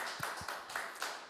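Congregation clapping in a church, a brief faint patter of a few distinct claps spaced unevenly over a soft room background.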